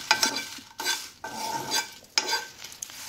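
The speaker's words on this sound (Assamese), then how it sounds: "শেষত আমি কেইটামান শুকান জলকীয়া ইয়াতে খেকি লম" Pickle masala spices and dried chilies dry-roasting in a pan, stirred in three or four scraping sweeps with faint crackle, close and moderately quiet.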